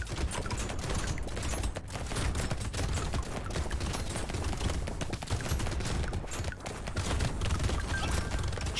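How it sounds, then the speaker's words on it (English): Shotgun fire in the Brotato video game, with dense, continuous rapid blasts and impacts layered over a busy, loud game mix for the whole stretch, no voice heard. "Especially with all these shotguns."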